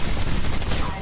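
Rapid gunfire from the L-Star energy weapon in the shooter game Titanfall 2, a dense continuous burst of shots with faint voices in the background.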